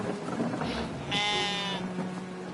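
Sheep bleat in the Brothers: A Tale of Two Sons Remake video game, one drawn-out bleat rising over a busy background of game sound.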